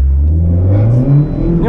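Lada Granta sleeper car on summer tyres launching from a standstill with wheelspin, its engine revving loud and close with a rising pitch throughout, alone without talk.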